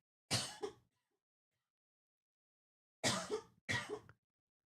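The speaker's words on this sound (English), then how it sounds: "I'm gonna cough." Three dry coughs from one person, a single cough followed after a long silence by two quick ones in succession, close and clear against a quiet room.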